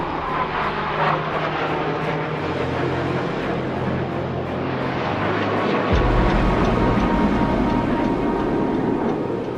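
A C-295 MW military transport aircraft drones with a steady, loud engine roar that swells and deepens partway through, continuous with no voices.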